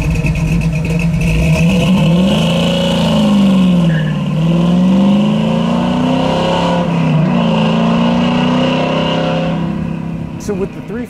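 A 1970 Chevy Camaro with a 350 V8, headers and Flowmaster mufflers rumbles and revs steadily, its deep engine note rising and falling over about eleven seconds, loud and close, with people talking over it.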